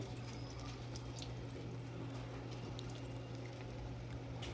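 Sweet corn fritters (bhaji) deep-frying in hot oil over a medium gas flame give a steady, continuous bubbling sizzle, fairly quiet and unbroken throughout, with no one speaking.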